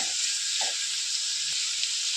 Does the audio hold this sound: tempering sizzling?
yes